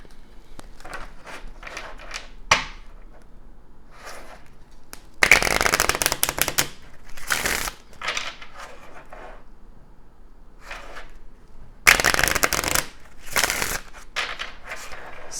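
Kipper oracle cards are shuffled by hand in two bursts of loud, riffling rustle, with softer scattered taps and card flicks in between and no talking.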